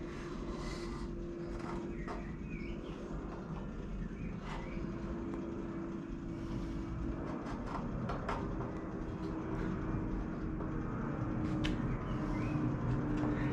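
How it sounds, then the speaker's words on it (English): Aircraft flying over a workshop shed give a steady, distant roar that holds through the whole stretch and swells slightly toward the end, with faint clinks of work in the background. "Well, it would be if it weren't for the planes."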